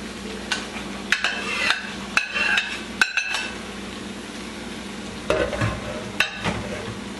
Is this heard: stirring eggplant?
yes